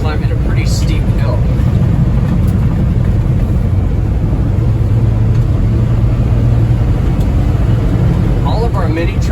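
A 1991 Honda 4x4 Japanese mini truck labors up a steep hill, its engine droning steadily and loud throughout, with a person talking over it at the start and again near the end.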